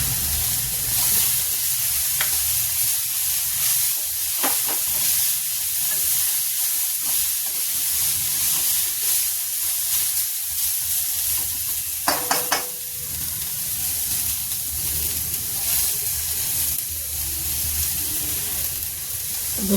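Sprouted moong frying in a pan, a steady close sizzle running throughout with occasional scrapes and clinks of stirring.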